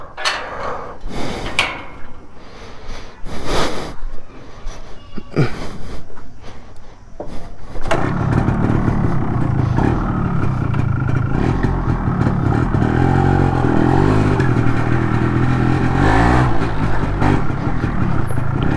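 Yamaha RX 135 five-speed two-stroke motorcycle starting near a road, with a few clattering knocks before the engine catches and settles into a loud, steady idle with revs rising and falling.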